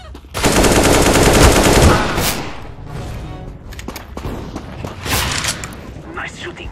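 Gunfire on Dust 2 in CS:GO: a loud, sustained automatic burst rattles for about a second and a half, followed by scattered shots, thuds and softer firing nearby, with a voice speaking during the action.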